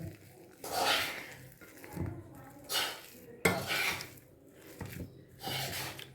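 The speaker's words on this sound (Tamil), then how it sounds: "இப்போது வாழைக்காய் வந்து தோல் உரிச்சாச்சு இதை வந்து நல்லா ஸ்மாஷ் பண்ணிக்கலாம்" Boiled, peeled plantain is mashed in a bowl, giving close, uneven bursts of squelching and utensil scraping against the bowl, with quiet gaps between strokes.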